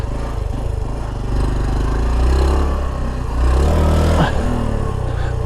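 A Honda Trail 125 Hunter Cub motorcycle engine drones loud and near while riding, a low, steady putter that swells as the revs climb, with wind rushing past.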